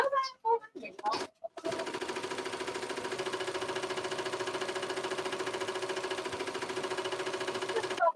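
An embroidery sewing machine stitching a fabric appliqué, running in a steady, even rapid rhythm for several seconds after a few short starts and a brief pause, with a voice talking briefly at the start.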